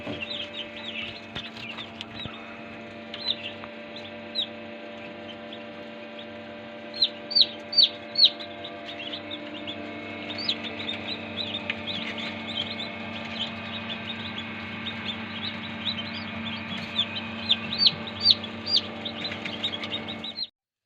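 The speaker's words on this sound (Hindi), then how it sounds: "ये ब्रूडर है। ये ऑलरेडी चिक्स तकरीबन 1 वीक से प्लस ही हो चुके हैं इसमें।" Week-old Ayam Cemani chicks in a brooder peep and cheep constantly, with brief clusters of louder chirps over a steady background hum.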